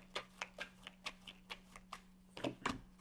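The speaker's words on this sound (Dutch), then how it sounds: "Zal de kaarten schudden om te kijken wat deze week voor jou gaat brengen" Tarot cards shuffled by hand for a weekly reading, a close and quiet run of crisp flicks and taps in an uneven rhythm, ending in a couple of louder slaps, with a steady low hum beneath.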